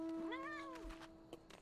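A cat mount in a video game lets out one clear, drawn-out meow that rises and falls. It is followed by a couple of faint clicks over a quiet background.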